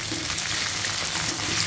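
Onion and white eggplant (brinjal) pieces frying in hot oil for a peanut-spiced fry, a dense, even, loud sizzle close up with no pauses and no voices.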